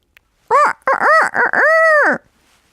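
A rooster crows loudly and close by, a few choppy opening calls building into one long drawn-out cock-a-doodle-doo, with no other sounds.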